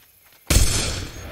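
A single rifle shot in The Hunter hunting game cracks out loud and sudden after a quiet moment, followed by a booming, rolling echo that slowly decays.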